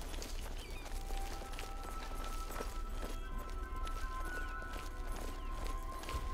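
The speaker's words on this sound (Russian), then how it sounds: "О, лошадь." Horse hooves clip-clop at a steady walking rhythm in the video game Oblivion, moderately close and layered over ambient game sound, with no speech.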